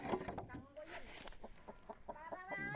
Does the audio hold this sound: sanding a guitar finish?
no